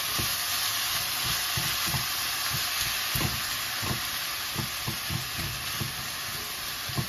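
Ground beef frying on medium heat in a pan while a utensil breaks it up, giving a steady close sizzle broken by irregular scraping and tapping strokes.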